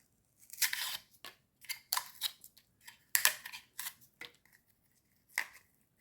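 Scissors snip and crunch through ribbon while a Christmas wreath is made, several short sharp cuts in irregular bursts, close and fairly quiet, with no talk.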